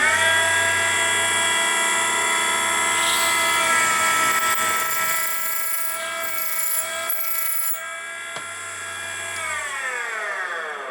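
A Henderson precision case trimmer runs at a loud, steady whine for several seconds, then the motor slows and spins down to a stop.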